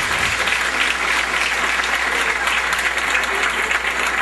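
A church congregation claps loudly and continuously during a sermon, producing a dense, even roar of applause close to the listener, with voices mixed faintly into the crowd.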